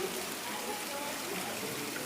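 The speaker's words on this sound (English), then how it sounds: "It's literally raining in here right now." Water falls like indoor rain inside the Conservatory of Flowers greenhouse in San Francisco, a steady, even hiss of drops on leaves and surfaces that keeps up without a break for the whole stretch.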